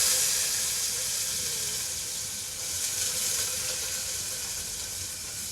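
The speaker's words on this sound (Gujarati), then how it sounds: "વઘાર થાય, જો ડુંગળીના બટેટા નાખ્યા હવે।" Potatoes and onion go into hot tempering for Gujarati potato rice, giving a loud, steady, hissing sizzle close by that slowly softens, with no talk over it.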